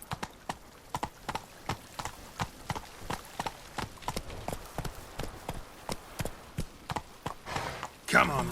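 A horse gallops in The Witcher 3: Wild Hunt, its hooves striking in a steady, quick clip-clop rhythm throughout, with a sharper burst of noise at the end.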